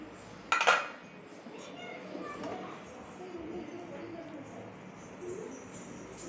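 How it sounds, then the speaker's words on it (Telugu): A lid is lifted off a pot of mushroom biryani with one sharp metallic clink near the start, followed by quiet, steady kitchen room tone. "మూత ఓపెన్ చేసి చూద్దాం."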